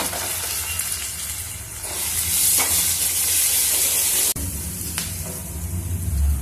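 Onion pieces fry in a pan for a palak aloo masala curry, giving a steady, close sizzle with occasional stirring scrapes and no talking.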